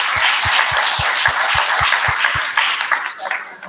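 Applause from an audience at a community health event in Detroit, a dense, steady wash of many hands with a low rhythmic thumping underneath, fading slightly toward the end.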